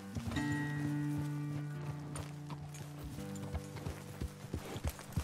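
Horse hooves in Red Dead Redemption 2, several horses clip-clopping at a walk near a ledge above a road, irregular close hoofbeats with a snort or whinny and musical tones early on, growing sparser toward the end.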